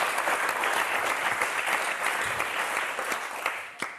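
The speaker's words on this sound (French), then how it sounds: "On vous applaudit très fort, Anne et Emmanuel." A studio audience on a French TV game show applauds loudly and steadily, dense clapping filling the room throughout with a few sharper claps near the end.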